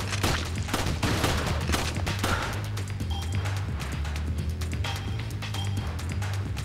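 Gunfire aimed at the player in Dead Rising: Chop Till You Drop rattles in rapid, repeated volleys of sharp shots, steady and dense over a low droning game background.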